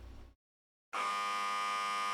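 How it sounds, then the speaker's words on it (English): A loud, steady electric buzzer rings out in a spacious room in a visual novel game, starting after a short silence and holding on continuously with a reverberant tone. "a buzzer sounds reverberating throughout the spacious room"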